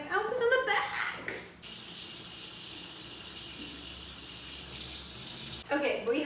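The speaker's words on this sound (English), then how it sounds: "Measure the warm water in a small bowl" Warm tap water pours steadily into a small bowl in a kitchen, a continuous close hiss lasting several seconds, with brief talk before and after.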